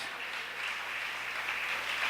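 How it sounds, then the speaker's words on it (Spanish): A church congregation at a Shekinah congress applauds in a dense, steady wash of clapping that holds evenly for the whole stretch, with no voices standing out. "Démosle un aplauso al Señor por la vida de nuestro pastor, hermanos."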